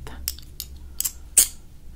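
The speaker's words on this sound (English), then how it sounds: "we'll use the scissors for your nose hairs" During an ASMR barber roleplay, scissors make about five crisp close-up snips at an uneven pace. The last snip is the loudest, and soft whispering can be heard in the background.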